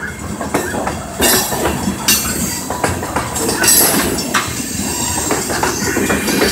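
A long freight train on the Winchester & Western railroad rumbles past close by, wheels clacking in a steady rhythm over the rails with occasional squeals, the noise continuous and loud throughout.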